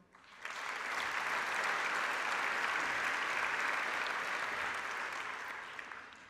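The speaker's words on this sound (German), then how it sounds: "Applaus" A large audience at the MCI Management Center Innsbruck graduation ceremony breaks into sustained applause, swelling quickly and holding as a dense, steady wash of clapping before starting to fade.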